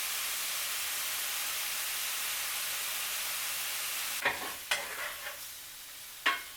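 Taco filling with taco seasoning sizzles steadily in a hot pan, a close, even hiss, followed near the end by a few scraping stirs.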